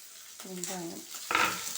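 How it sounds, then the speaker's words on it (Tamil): Onions with curry leaves and green chilies sauté in a pan with a soft, continuous sizzle, partly under brief speech, followed by a sharper burst of frying. "இப்போ வெங்காயம் நல்லா வணங்கிருச்சு."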